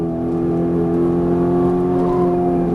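A Ferrari 458 Italia engine runs on a track in a loud, close, steady drone with strong tonal harmonics and no voices.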